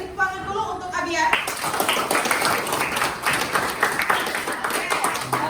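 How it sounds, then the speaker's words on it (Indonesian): Classroom clapping for a student during a lesson, a brief voice at the start, then brisk dense applause from a group of children continuing steadily at close range. "beri tepuk tangan dulu untuk Abian"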